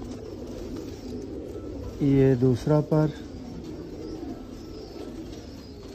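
A Sialkoti black-faced pigeon coos in a short burst of low, hooting notes, fairly close, with someone speaking before and around it.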